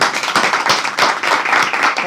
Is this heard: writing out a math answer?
no